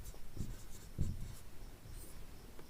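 A pen writes on paper during a class 8 maths lesson, giving soft, close scratchy strokes in a few short bursts with no talking.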